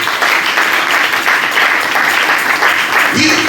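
A church congregation applauding during a Sunday service, sustained loud clapping filling the room, with a voice speaking over it near the end.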